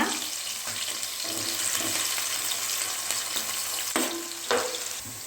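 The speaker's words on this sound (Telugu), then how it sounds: "పచ్చిమిర్చి కొంచెం వేగిన తర్వాత ఆనియన్స్ వేసుకుంటున్నాం" Green chillies and onions fry in hot oil as a fish curry with raw mango is cooked, sizzling steadily and close up, with a few stirring scrapes and clinks breaking through the hiss.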